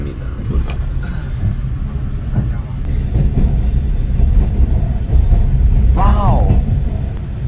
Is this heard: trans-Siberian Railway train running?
yes